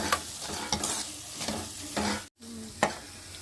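Salt and chili mixture being stirred in a sizzling pan, steady frying hiss broken by several scraping spoon strokes and one brief dropout, close and without voices.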